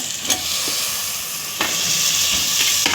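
Drumstick pods dropped into a hot pan, a steady loud sizzle and hiss with a few brief clatters of stirring, close up and with no talk.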